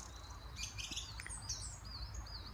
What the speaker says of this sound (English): I was guided to take a short clip to record these beautiful birds